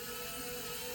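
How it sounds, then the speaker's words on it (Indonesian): A small quadcopter drone with brushless motors flies steadily, giving a continuous near, loud whining buzz of spinning propellers that holds level throughout with no talking. "Nah, terbangnya juga udah stabil ini drone."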